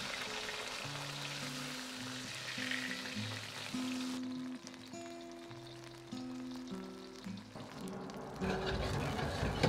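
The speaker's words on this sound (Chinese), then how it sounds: "再翻面煎另一面。" Hairtail fish fries in oil in a wok over medium heat, giving a steady crackling sizzle throughout under continuous background music.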